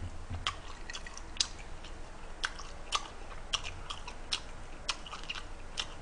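Close, wet chewing of pork neck steak, pilaf and cheese salad, with regular crisp bites and smacking repeating about every half second, alone without talk.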